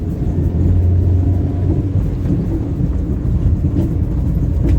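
A manual car pulls away in third gear with a steady, loud, close engine drone and low rumble that runs throughout, with no voices.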